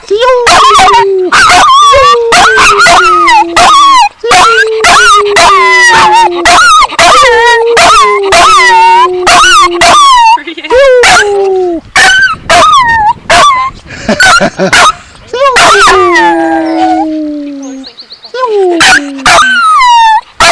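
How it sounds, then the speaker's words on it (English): Theo, a dog, howls loudly and close up in long wavering wolf-like cries, breaking into yips and whimpers with barks mixed in, while a person talks over him. "That's a good howl."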